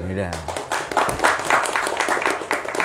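Clapping breaks out from an audience at a religious lecture on Quranic interpretation, rapid hand claps mixing with voices and talk for a few seconds.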